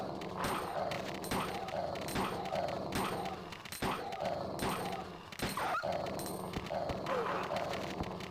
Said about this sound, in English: That was so many dogs.